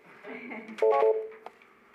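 Telephone call tones sound over a council meeting's audio line, a short burst of clear pitched beeps following some faint muffled talk.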